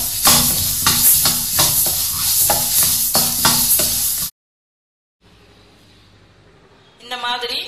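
Coriander seeds being dry-roasted and stirred in a pan, giving loud rhythmic scraping and sizzling strokes that stop abruptly, followed by a quiet stretch and fainter kitchen noise, then a short burst of sizzling near the end.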